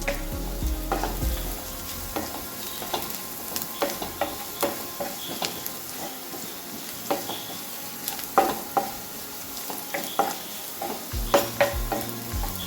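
Fennel seeds and spices fry in hot oil for a potato curry, a close, steady sizzle with frequent rhythmic scrapes of a stirring spoon against the pan.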